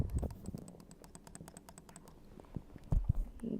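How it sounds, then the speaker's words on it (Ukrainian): Rapid clicking of a computer mouse and keys while playing a Roblox captcha-style game, a close, quiet run of sharp taps with a few heavier knocks near the end. "Якщо ви чуєте, то я клікую."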